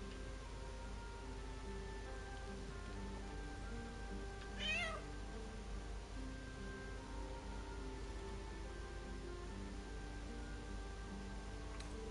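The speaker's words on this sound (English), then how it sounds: "The cat peers back." A cat in the video game Baldur's Gate 3 gives a single short meow midway, heard faintly over a quiet, steady background of sustained tones and hum.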